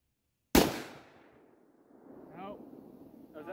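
A single loud, close gunshot from a .50 Beowulf rifle at an outdoor shooting range, with a sharp crack followed by a long fading echo, then faint speech afterward.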